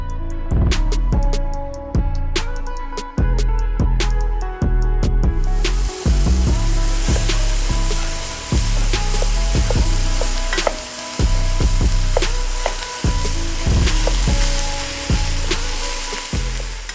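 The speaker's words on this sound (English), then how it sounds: "I'm stirring up the ground beef and the sausage, trying to get it to the consistency of like chili." Sweet Italian sausage and 80-20 ground beef fry loudly in a pan while being stirred and broken up, with a constant sizzle and a regular, rhythmic scraping of the utensil against the pan bottom.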